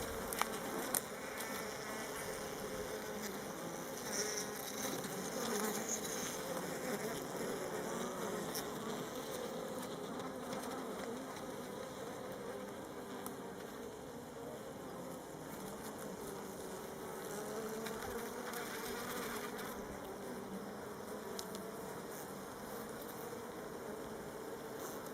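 Honeybees hum at a school-garden beehive while it is inspected and fed. A dense, steady buzz of many bees continues without a break from start to finish, with no talk.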